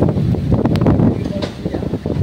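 Strong wind gusts roar steadily and loudly outdoors, buffeting the microphone with a continuous low rumble and no pauses.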